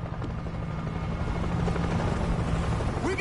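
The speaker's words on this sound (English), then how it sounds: "We got a chopper! It's crossing over the river. Chopper's landing on the building." A helicopter in the zombie shooter video game World War Z drones steadily with a constant whirring rotor hum that fills the scene at even loudness.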